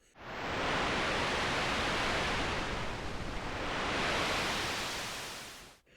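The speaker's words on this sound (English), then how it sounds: "creating the illusion of waves crashing against the shoreline" Soft rushing noise swells, recedes, and swells again like waves washing onto a shore, a smooth synthetic surf made from layered white noise, with no voices.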